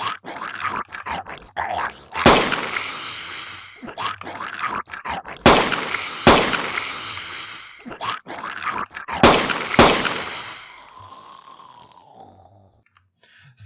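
Pistol gunshots from a Unity first-person shooter game fire as six sharp, loud reports in uneven pairs over busy game ambience, ending with a fading tail.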